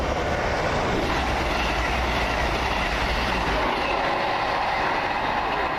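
A passenger train rushing past on the railway at Water Orton, a loud steady roar of wheels and carriages close by with a faint clickety rhythm, no voices.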